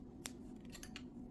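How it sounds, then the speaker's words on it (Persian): Sharp scissors snip through crochet yarn at the end of a knitted motif: one crisp cut followed by two or three quicker snips, close and fairly quiet over a steady low room hum. "با قیچی میبریمش نخمون رو و میکشیم به این شکل."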